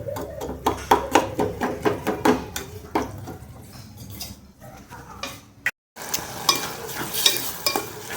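Bitter gourd stir-fry is cooked in a pan with a quick run of rhythmic scraping and stirring strokes that then slows, over a faint sizzle.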